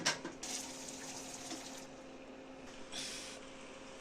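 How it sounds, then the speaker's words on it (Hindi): Water pouring into a bowl in a Kashmiri village kitchen to mix custard powder, a steady close splashing and trickling stream that swells again near the end, with no talking. "अब हम यहाँ पे डालेंगे एक बाउल में पानी लेंगे, कस्टर्ड मिक्स करेंगे।"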